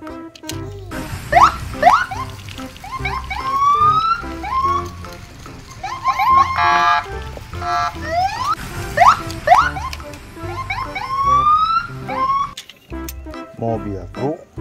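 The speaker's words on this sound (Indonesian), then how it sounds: "Mobil polisi patroli." A toy police patrol car plays a warbling electronic siren, rising and falling wails repeated throughout at moderate loudness, with a voice speaking over it.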